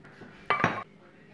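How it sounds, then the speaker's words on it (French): A saucepan is lifted from among other pots and pans, giving one brief metallic clatter and clink against a quiet kitchen background. "On prend une casserole plus adaptée."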